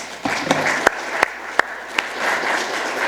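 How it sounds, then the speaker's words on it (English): An audience at a talk on hope in dystopian times gives a round of applause, a continuous wash of clapping with a few sharper individual claps. "So one more round of applause for Albert, please."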